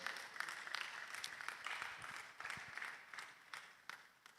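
Quiet, distant applause from an audience at a film festival session, scattered claps forming a steady low patter throughout.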